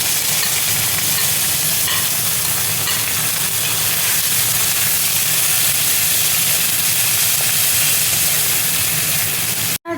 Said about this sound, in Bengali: এবার দেখো তেজপাতা দিয়ে দিচ্ছি, পেঁয়াজ কুচি দেখো দিয়ে দিচ্ছি।